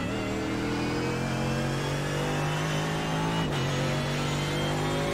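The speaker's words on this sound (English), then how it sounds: "I think engine sound is a bit too loud." A Mercedes AMG GT3 race car engine in the iRacing game at Watkins Glen drones loud and steady, holding a sustained high rev with a brief dip near the end, no talk.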